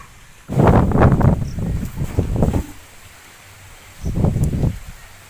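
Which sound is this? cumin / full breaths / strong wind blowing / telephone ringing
strong wind blowing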